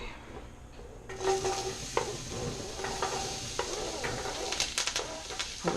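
Chopped onion, carrot and celery hitting a hot pan for chicken soup, then a steady sizzle with scraping stirs and clinks of a utensil against the pan, fairly quiet and close, with no talking.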